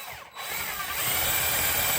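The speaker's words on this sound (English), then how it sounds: "let's drill the bottom out." A power drill whines steadily and close as it drills out the bottom of a solenoid, its pitch rising slightly as the bit bites in, running continuously without pause.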